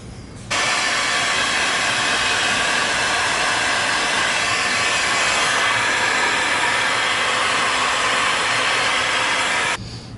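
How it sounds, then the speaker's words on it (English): A heat gun blows hot air onto a cable clamp inside a car, a loud steady hissing roar that starts abruptly, holds constant for about nine seconds, then cuts off, close up with no talk. "Use a heat gun."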